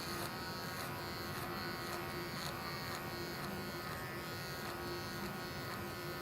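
Wahl Magic Clip hair clippers cut hair in a barbershop with a continuous, even electric buzz that stays close and steady, with no talking.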